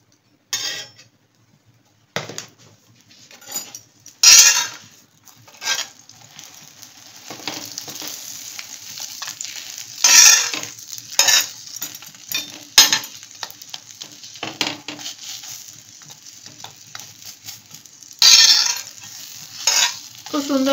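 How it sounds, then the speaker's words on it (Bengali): An aloo paratha fries in oil in a pan, sizzling in bursts while a spatula scrapes and taps against the metal at irregular intervals, heard close up with no talking. "খুব সুন্দর করে ভেজে নিই"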